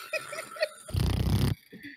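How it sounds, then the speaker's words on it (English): A man asleep gives one loud, rough snore of about half a second, coming after soft murmuring sounds in a quiet room. "he is snoring loud, bro"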